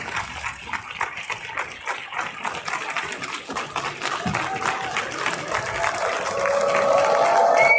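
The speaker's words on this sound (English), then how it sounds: "So are they applauding those people for walking out?" A sparse, thin patter of audience applause, with scattered individual claps that swell slightly toward the end, heard at a distance.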